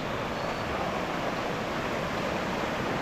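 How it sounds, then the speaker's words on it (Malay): Clear river running past a campsite in a durian orchard, a steady, dense rush of water that carries on without a break and with no voices over it. "ni sungai dia. Sungai di campsite AJ Kimi ni."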